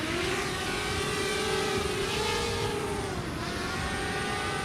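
A camera drone flies steadily in the remote wet-season Kimberley of Australia, its droning whine holding a constant pitch that bends slightly up and down, loud and continuous for the whole stretch with no talk.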